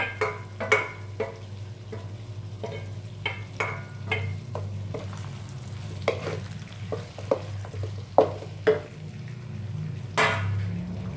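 Onion, garlic and ginger fry in a pan with a low steady sizzle, broken by a series of sharp spatula scrapes and knocks against the pan at irregular intervals, close up with no talking.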